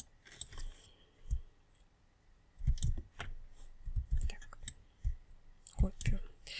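Keyboard keys and mouse buttons click while someone works in Adobe Illustrator, sharp scattered taps coming in small clusters, with a faint low voice murmuring underneath.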